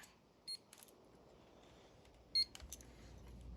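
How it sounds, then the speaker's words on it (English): A timer at a phone battery-replacement workbench gives two short, high electronic beeps about two seconds apart, set against a faint, quiet room. "Oh, that's the timer"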